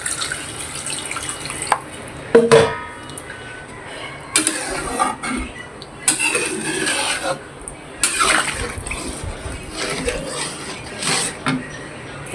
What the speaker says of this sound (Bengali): তাহলে আমি দিয়ে দেবো ঝোল।